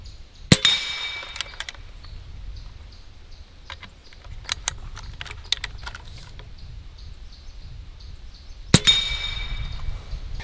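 AEA Element Max air rifle pellets striking a metal target: two sharp, ringing metallic clangs about eight seconds apart, with faint clicks and a quiet outdoor hum between them.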